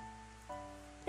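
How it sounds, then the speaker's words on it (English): Rain falls in the visual novel CLANNAD, a quiet, steady hiss under sustained musical tones that shift partway through, ending in a brief louder burst. "the rain begins to fall down on me again"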